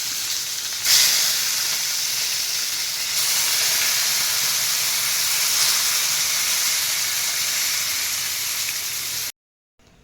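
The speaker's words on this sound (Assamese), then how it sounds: "বাকীখিনিও এই একে প্ৰচেছৰে ফ্ৰাই কৰি লওঁ" Eggplant slices frying in hot oil give a steady, loud broadband sizzle and hiss that holds nearly unbroken for about nine seconds, then cuts off abruptly.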